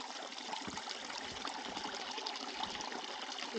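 A tiny waterfall spills into a forest stream in Tiadaghton State Forest, giving a steady, close, hissing rush of falling water with no talk over it.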